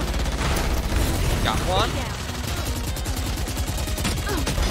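Rapid gunfire in the shooter game Valorant, bursts of shots crackling under an excited voice, with a brief sweeping effect midway and busy game noise throughout.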